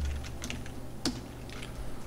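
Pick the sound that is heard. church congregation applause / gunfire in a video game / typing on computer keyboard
typing on computer keyboard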